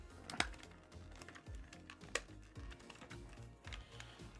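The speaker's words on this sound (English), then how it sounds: "Make sure all the buttons are clicking and not flat or not feeling satisfying." The buttons of an 8BitDo controller click during a mod, giving quiet, irregular plastic taps close up, sometimes a couple in quick succession, with no talking.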